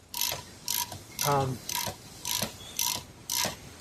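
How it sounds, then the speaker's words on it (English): A tap cuts new threads into an oil pan drain plug hole, producing seven regular ratcheting clicks roughly half a second apart, each a crisp metallic burst, close and loud with no talk. "Here's how we retap the hole"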